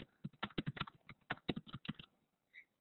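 Keys tapped on a computer keyboard in quick, uneven bursts of clear clicks, close and distinct, pausing near the end with one faint tap after the silence.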